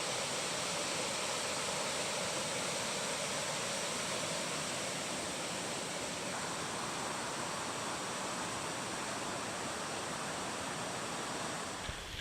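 Woods Creek rushes down a mountainside in the wilderness along the John Muir Trail, a loud, steady, broadband roar of water that holds unbroken for the whole stretch with no voices.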